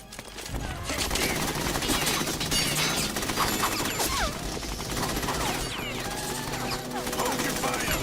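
Sustained rapid gunfire and automatic bursts in the video game Metal Gear Solid 2, loud and dense throughout, mixed with crashes, clattering mechanisms and shouted voices.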